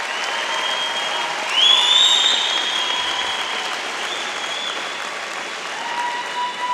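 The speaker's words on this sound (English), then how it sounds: "give a big round of applause" Sustained applause from a high school commencement audience in bleachers, steady and full throughout, swelling briefly near the start with a faint tonal whistle above the clapping.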